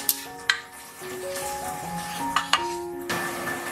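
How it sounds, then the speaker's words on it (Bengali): Chopped salted onions frying in oil for a pumpkin flower kofta curry, a soft continuous sizzle broken by several sharp clinks of a spatula against the pan, with faint tonal hum underneath. "দিয়ে দিলাম ফাইনলি যে চপ করে নেওয়া পেঁয়াজটা, সেটাকে এখন ভালো করে ভেজে নেবো।"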